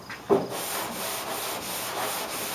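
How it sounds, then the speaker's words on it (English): Chalk-coated primer being hand sanded with sandpaper, a steady close rubbing scrape with a brief sharper stroke near the start, continuing without speech. "when I'm sanding is getting lighter because it's sanding that chalk away"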